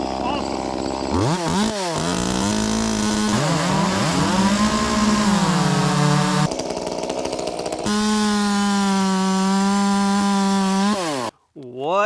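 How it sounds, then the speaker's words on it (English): A small Echo 2511T chainsaw cutting wood revs up and down repeatedly, its engine pitch rising under load as it cuts, then cutting out abruptly near the end. "glorious micro chainsaw."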